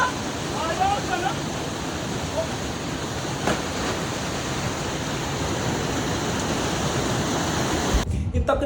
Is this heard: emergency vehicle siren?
no